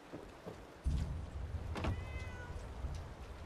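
Faint cat meows in the video game Fallout 4's Far Harbor expansion, a few short thin cries rising briefly over low ambient rumble and soft game noises.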